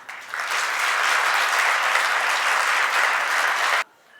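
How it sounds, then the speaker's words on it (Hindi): An audience at a Jain sermon in Ujjain breaks into loud, dense applause that holds steady for nearly four seconds, then cuts off abruptly into quiet. "इस बात में अच्छी तालियां एक साथ बजाई जा सकती हैं।"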